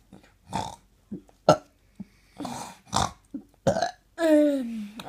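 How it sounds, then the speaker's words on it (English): A series of about seven short, close acid burps with gaps between them, ending in one longer, drawn-out belch. "I have acid burps."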